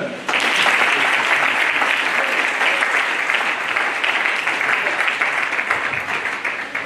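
A church congregation applauds and cheers in praise of Jesus, dense steady clapping with crowd noise filling the room loudly from start to finish.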